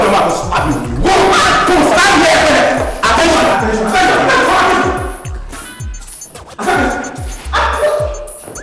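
A dog barks repeatedly in short, loud bursts amid a tense, noisy indoor scene with crowd shouting and people talking over it.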